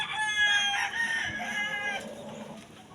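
Hybrid roosters crow in overlapping, drawn-out calls with some clucking at a backyard watering time, loud and close, with no talking.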